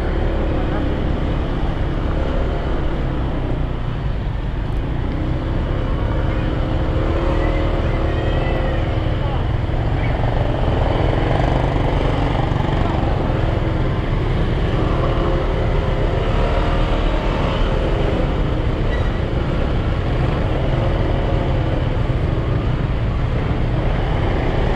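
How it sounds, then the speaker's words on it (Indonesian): Heavy traffic jam on a road in Bukittinggi, West Sumatra, heard from a motorcycle: a continuous engine drone and road rumble with passing vehicles, and a voice talking over it. "Macet, macet, macet, macet, macet, macet, macet, macet"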